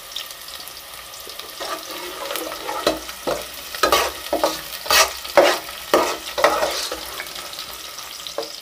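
Onions sizzle and crackle in hot oil in a pan, with intermittent stirring scrapes and clatters over a steady frying hiss.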